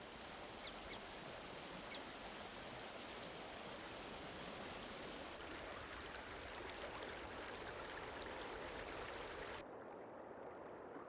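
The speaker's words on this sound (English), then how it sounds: "The rapid flow of water keeps parts of the torrent free of ice, even during the hardest frost." Rapid mountain torrent rushing through a frozen landscape, a steady broadband roar of flowing water that stays loud and continuous throughout, shifting slightly in tone near the end.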